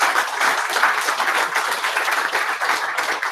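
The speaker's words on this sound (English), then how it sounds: "let's give a big applause to the speakers" Audience applause for the speakers at the close of a session on wetland carbon storage, with steady, dense clapping from many people that continues evenly for the whole stretch, no talk over it.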